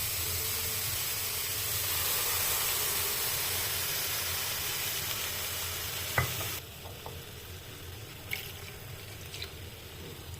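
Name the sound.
stirring carrots frying in a pan for carrot halwa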